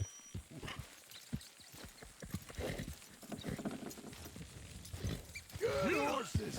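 Hooves clip-clop in an uneven walking rhythm in the video game Red Dead Redemption 2, fairly close, with a horse whinny near the end and some background voices.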